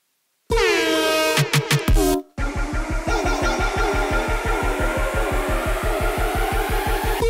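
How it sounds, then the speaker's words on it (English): A loud blaring air horn sounds alone, stuttering in short blasts before settling into a rapid, pulsing repeated honk. "That's a nice air horn."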